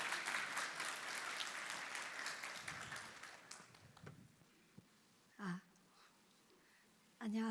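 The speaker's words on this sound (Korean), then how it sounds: "우리 중보기도 팀장 올라오시는데 박수로 환영해 주시기 바랍니다." A church congregation at a Sunday worship service claps to welcome the prayer team leader to the stage; dense applause that fades out after about four seconds, followed by near-silence and a few brief bumps of stage noise.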